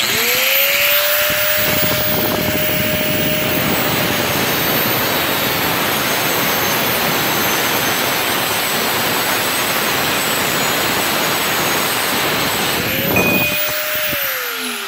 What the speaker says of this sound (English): I don't know if anything gets more punishment than my angle grinder